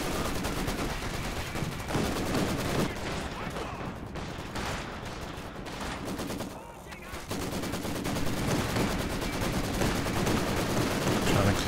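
Dense machine gun fire in a Company of Heroes 2 multiplayer battle, continuous rapid bursts layered with other gunfire, loud and nearly unbroken, with a commentator talking over it.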